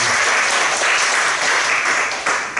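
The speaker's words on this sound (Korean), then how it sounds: "자, 저희 박수 한번 하시고." A church congregation applauds during a Sunday worship service, continuous full clapping from many people filling the room at a steady, loud level for a few seconds.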